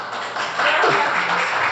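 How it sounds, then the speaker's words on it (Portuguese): A church congregation applauds for Jesus during a worship service. Broad, sustained clapping swells after a brief quieter start and carries on evenly through a reverberant hall. "Pode dar um aplauso ao Senhor Jesus?"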